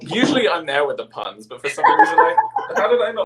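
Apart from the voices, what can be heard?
No everyday noise stands out behind the speech.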